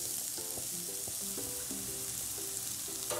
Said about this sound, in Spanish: Ahora vamos a esperar a que se sofría este ajito